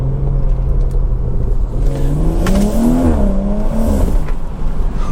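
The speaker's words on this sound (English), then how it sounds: "You can already hear some little burbles that was not there before." BMW 340i with a B58 engine and a newly installed downpipe, its engine droning loud and steady as revs rise and fall, with a few faint exhaust pops and burbles mixed into the continuous rumble.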